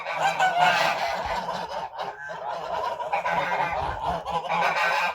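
Several geese honk loudly and close, their harsh calls overlapping in a continuous, agitated chorus with only a brief dip in the middle.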